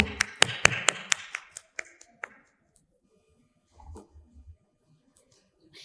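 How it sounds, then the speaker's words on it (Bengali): At a student union stage event, a short burst of hand claps greets guests coming up to the stage. About a dozen sharp, fairly close claps thin out and stop within two seconds, followed by faint shuffling. "করতালির মাধ্যমে তাদেরকে মঞ্চে আহ্বান করছি।"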